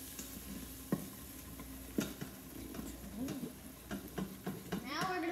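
Spice powders being stirred in an Instant Pot for veggie biryani, a faint steady sizzle with scattered scraping taps of a spoon against the pot, fairly quiet and without talk.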